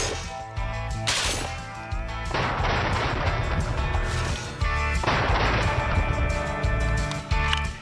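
Repeated gunfire from the Fallout: New Vegas game, with NCR service rifle shots cracking loudly in irregular bursts alongside booming impacts and echoing reports, dense and close with no talk.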